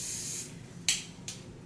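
Glue spray misted onto an auburn body wave lace frontal wig: one long close hiss, then two short bursts after a pause, with no voice.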